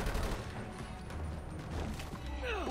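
A rapid burst of gunfire from a shootout in the Avatar video game crackles at moderate loudness, followed by a sweeping whooshing effect at the end.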